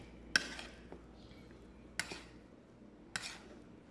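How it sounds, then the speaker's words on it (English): Green salad with sardines in vegetable oil being tossed in a bowl, three sharp utensil clinks spaced about a second apart over faint soft stirring, close and fairly quiet. "Mix lang natin."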